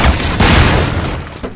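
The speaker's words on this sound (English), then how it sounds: "This explosion permanently seals the cafe door" A heavy explosion booms in Half-Life 2: Episode One as a blast seals a cafe door, a loud deep roar that rolls on for over a second before dying away, with a small after-thump.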